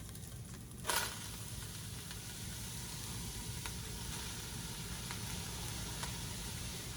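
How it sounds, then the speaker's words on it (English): Garlic and mushrooms sizzling in a hot pan for a mushroom cream sauce, giving a steady, close frying hiss with a brief clatter near the start as the food goes in, and occasional soft pops, with no talk. "I'm going to throw in my garlic. Then we're going to start putting in all these mushrooms."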